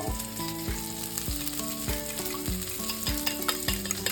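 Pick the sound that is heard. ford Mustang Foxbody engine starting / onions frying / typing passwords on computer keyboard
onions frying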